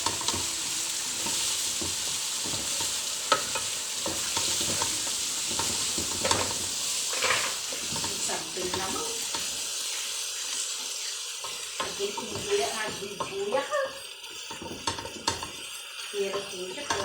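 Chicken breast and onion stir-fry in a pan: steady sizzling with repeated scraping and clinking of a utensil against the pan. A few quieter gaps let the frying hiss come through between strokes.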